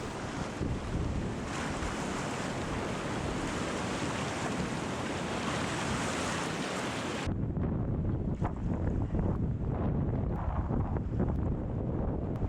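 Strong wind roars steadily at Class 3 rapids on the Middle Fork Salmon River in Idaho, a loud, continuous rush of gusts and water that shifts to a slightly thinner tone partway through.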